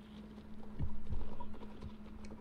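Hooves of a video game horse clip-clop at a steady walking pace, several soft thuds close by over a low steady hum.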